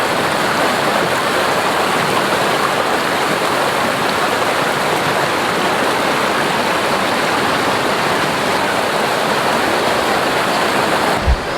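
Clear mountain water rushing at Baba Dhansar near Katra, a steady, loud broadband roar of flowing stream or falls that stays constant throughout with no voices.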